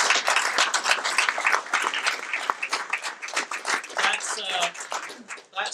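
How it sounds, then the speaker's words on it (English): Audience clapping at an indoor art exhibition for the people of Chile, a dense patter of many hands held at a steady level for several seconds, fading slightly at the end, with a few voices mixed in. "please give him a round of applause for deciding to have this event"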